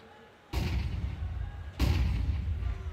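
Two loud, sharp rifle shots ring out about a second apart in a Counter-Strike 2 pro match, each leaving a short echoing tail.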